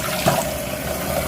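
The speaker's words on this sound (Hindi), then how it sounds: "पानी इसमें डालते हैं" Water poured into a pan while making jalebi syrup, a short splashing pour at close range over a steady background hum, no talking.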